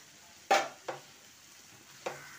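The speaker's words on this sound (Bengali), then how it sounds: "দইটা যাতে ফেটে না যায় সেই জন্য দইটাকে খুব ভালোভাবে আগে কষিয়ে নিচ্ছি" Spice paste and a spoonful of yogurt being stirred in a pan, with a few quiet spatula scrapes and soft sizzling bursts spaced apart against a low background.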